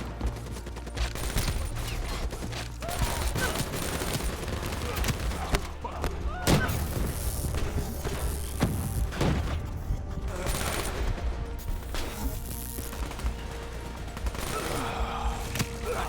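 Sustained bursts of gunfire and booming impacts from a Call of Duty: Black Ops 3 firefight, with rapid automatic fire, thuds and explosions layered over continuous battle noise throughout.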